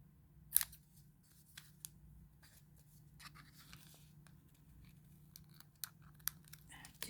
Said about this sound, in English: I can cut this because I put a little bit too much there.